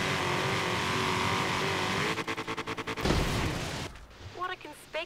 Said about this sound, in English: I just want to hear this Mustang